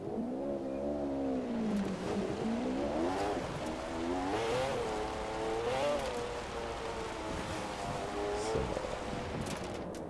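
A car engine accelerating hard on an autobahn top-speed run in Forza Horizon 4: a steady, close drone that climbs and dips in pitch through gear changes, with no talking.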